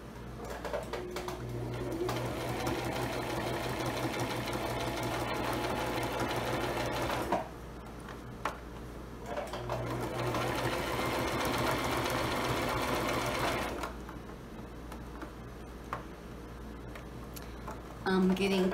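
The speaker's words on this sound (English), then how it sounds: "back here at the sewing machine" A sewing machine stitches a lined zipper pouch in steady, rapid mechanical bursts with brief pauses between runs. It is close and moderately loud, with occasional quiet talk during the gaps.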